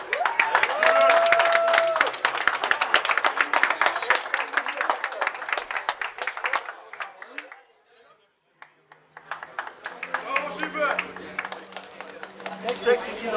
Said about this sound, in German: Jetzt kommt Ilda Lelo, Albanien. Applaus bitte!